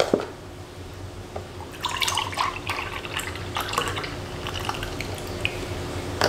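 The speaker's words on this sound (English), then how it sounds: "So I'm gonna start off with 1 cup of soy milk." Unsweetened soy milk is poured from a carton in a kitchen, a soft, uneven liquid splashing and trickling over a steady low hum, close and moderately quiet.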